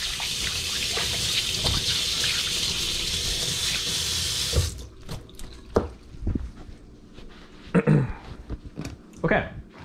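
Tap water streams steadily into a sink during hand washing, then cuts off, leaving scattered drips, clatters and handling noises.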